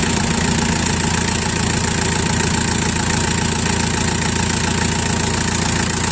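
A diesel engine idles steadily up close with a loud, even low rumble and rhythmic knocking, no talk.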